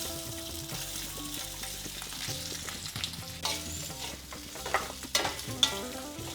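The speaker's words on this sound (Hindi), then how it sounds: "अब इसमें आलू डालेंगे।" Boiled potatoes stir-fried in ghee with cumin, a steady sizzle under background music, with stirring scrapes and a few sharper clinks toward the end.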